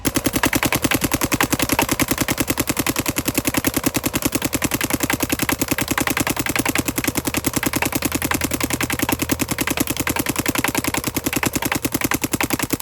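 A paintball marker fires a long, rapid, continuous string of shots at a target while comparing G.I. Sportz 5 Star, Valken Pro and Voltanium paintballs; the bursts are loud, close and evenly spaced, with no talk.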